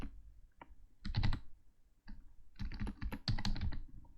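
Code being typed on a computer keyboard, quiet bursts of quick clicking keystrokes with a brief pause in between, heard without talk.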